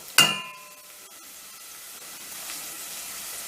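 A sharp sizzle bursts out as tomato paste hits a hot pan, then settles into a faint, steady frying hiss as it is stirred.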